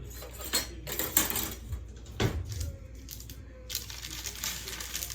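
A small knife is fetched from a home kitchen while desserts are being made: a series of metallic clinks and rattles of cutlery, close and fairly clear, with no talking.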